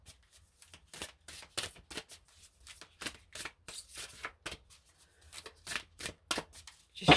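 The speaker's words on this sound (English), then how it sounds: "Just shuffling the cards." Playing cards are riffled and shuffled in a quick, uneven series of crisp flutters, close and fairly quiet, with no voice.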